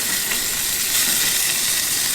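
Bacon crisping in a pan on a slightly too-hot stove at a tailgate breakfast, a continuous bright hiss and sizzle that holds steady and fairly loud for the whole stretch, with no voices.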